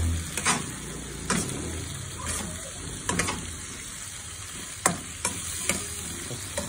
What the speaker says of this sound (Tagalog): Lahat halo-haloin nyo palagi para pantay yung pakaluto.